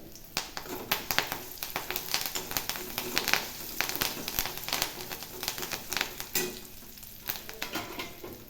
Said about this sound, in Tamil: கருவேப்பிலை பொரிஞ்சிச்சு.